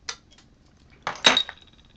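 Wells Bombardier bitter beer bottle opened with a short metallic clink and a sharp hiss-pop burst, preceded by a small tap, alone and close.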